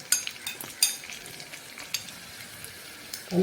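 Light sizzling of coconut pieces frying in a pan, with a few sharp crackles and pops rising over a steady soft fry, fairly close and moderately quiet.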